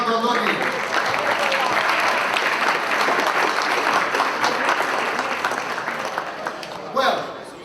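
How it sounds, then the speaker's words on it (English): An audience at a Hellenic Cultural Society of the Southwest gathering gives sustained applause, dense and steady for about seven seconds before thinning out near the end. "let's give an applause and wish him to have many,"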